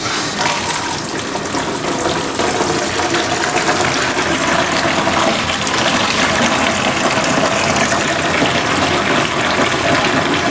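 Tap water gushes steadily from an indoor faucet in a house being disinfected by well shock chlorination, a loud, constant rushing flow running uninterrupted throughout.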